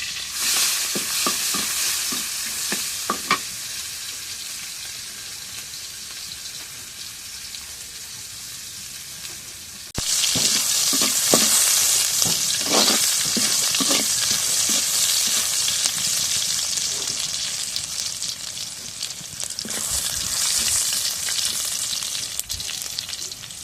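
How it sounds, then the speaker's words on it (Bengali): Garlic, onion, bay leaf and cumin sizzle in hot oil with a continuous, close crackle. Frequent stirring clatters sound over it, and the frying grows noticeably louder partway through. No one speaks. "রসুন, পেঁয়াজ, তেজপাতা তেলের মধ্যে দিলাম।"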